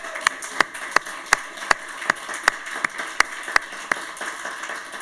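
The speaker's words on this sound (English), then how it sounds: "Let's once again give a big round of applause to all our shortlisted initiatives." Slow, evenly spaced single claps ring out at a road safety awards ceremony, about a dozen sharp hits in a sparse rhythm rather than full applause, with no talking.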